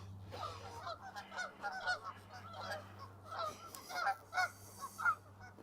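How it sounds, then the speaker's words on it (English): Geese honk repeatedly by a partly frozen lake in Regina in spring, a run of loud nasal calls at a moderate distance over a low steady hum, with no talk. "there's always lots of birds down here"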